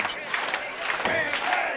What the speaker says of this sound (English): crowd's firing up behind Rampage